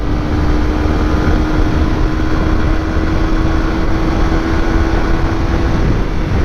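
A Suzuki GSX-R motorcycle on new tyres pulling along a highway: a loud, continuous engine drone with a steady hum and heavy wind rush, unbroken throughout.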